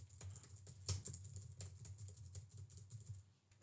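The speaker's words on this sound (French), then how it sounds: "Déjà, on va faire un test bruit au clavier." Quiet, rapid clicking of computer keys being typed, picked up by a Tonor TD510+ microphone, a steady patter of soft taps with no voices.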